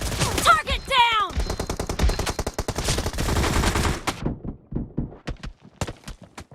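Suppressed Beryl M762 rifle fire in PUBG Mobile team deathmatch, a dense run of rapid muffled shots for about four seconds, then sparser single bursts with gaps, loud and close.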